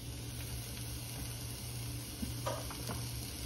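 Garlic, onion and ginger sautéing for adobo in a home kitchen, a steady low sizzle of frying with occasional stirring scrapes, close and continuous.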